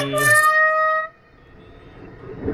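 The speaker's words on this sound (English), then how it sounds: "Air horn." A loud, sustained air horn blast with rich harmonic tones lasts about a second, then cuts off into quieter background noise.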